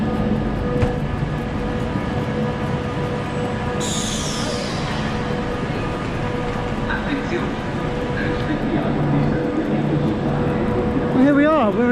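A high-speed train from Zurich arriving into Milan Central Station, a continuous rolling rumble with tonal hums, a brief hiss and a rising squeal near the end, heard under a person talking.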